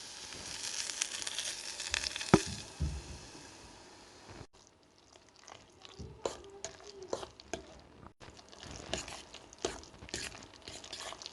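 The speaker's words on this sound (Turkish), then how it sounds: "Güzelce karıştırıyorum patatesle soğanı" Potatoes and onions with a little tomato paste frying in a pan, a soft steady sizzle with intermittent stirring scrapes and light taps, fairly close.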